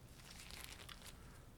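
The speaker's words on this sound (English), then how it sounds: "This is a sandwich bag. A plastic bag that, by the looks of it, has definitely been used." A used plastic sandwich bag crinkles softly and close up, with a short cluster of crisp rustles in the middle of a quiet, hissy background.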